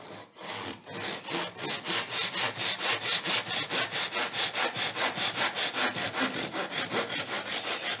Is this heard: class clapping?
no